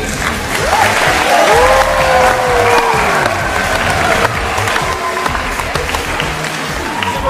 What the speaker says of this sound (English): please give a big round of applause to our training team